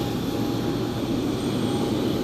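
Jet airliner with Rolls-Royce RB211 engines, likely a FedEx Boeing 757 at East Midlands Airport, roaring steadily and loudly throughout as a broad continuous engine rumble with a faint tonal whine.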